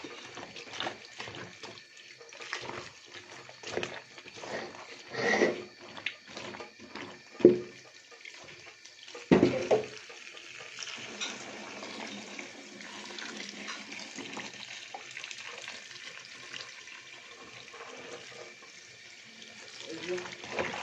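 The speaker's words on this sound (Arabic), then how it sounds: "كده هنزله تحت الميه الساقعه، هشطفه كويس." Taro rinsed under cold running tap water at a kitchen sink, a steady broadband splash and trickle running throughout, with brief louder bursts and clatters as the pieces are moved.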